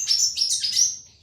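Small finches and whydahs in an aviary chirping, a quick run of high bright tweets lasting about a second, close and clear over faint background noise.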